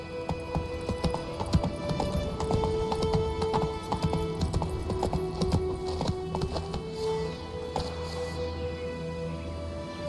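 Horse hooves clip-clop steadily in The Witcher video game as Geralt of Rivia rides near White Orchard, a moderately loud repeated trot set under game music and ambient sound.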